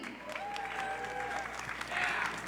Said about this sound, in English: Can you give AIPHA a big round of applause?